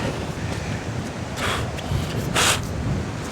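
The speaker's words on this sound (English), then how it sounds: "this might be the windiest conditions I've ever played in" Strong gusty wind buffeting the microphone outdoors on a disc golf course in a swampy park, a steady roar with two louder hissing gusts midway, no talking.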